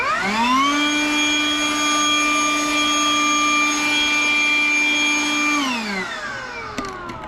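A RYOBI leaf blower runs steady and loud with a high whining tone while clearing debris off tiles, then spins down near the end, leaving a few light clicks.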